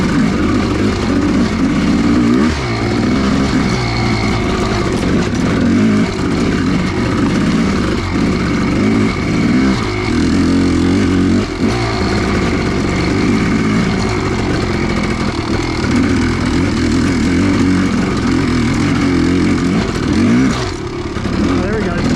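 A Kawasaki KX500 dirt bike engine running hard on a mountain trail, loud and continuous with steady revving throughout, and a voice talking over it.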